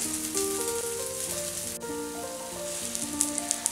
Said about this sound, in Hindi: दूसरी साइड हम घी लगाएंगे और लो फ्लेम पर हम रोटी को सिकने देंगे